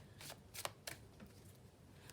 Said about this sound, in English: Let me just have a shuffle of the mystical moments